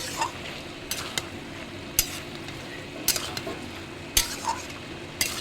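Prawns frying with ridge gourd in a pan give off a steady close sizzle, broken by several sharp clinks of a utensil stirring against the pan, with no voices.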